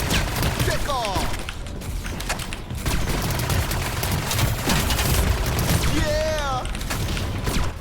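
Grenade blast and gunfire in the first-person shooter Lemnis Gate, with dense rapid shots and booms running steadily throughout, plus sweeping whooshing and chirping effects, loud and continuous under a busy game mix.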